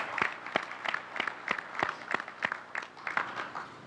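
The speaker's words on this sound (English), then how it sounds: "Give yourselves a round of applause here." An audience at the Holstein Association's annual State of the Association address gives a round of applause: steady, fairly even claps from a modest crowd in a hall, moderately loud and continuing throughout with no talking over it.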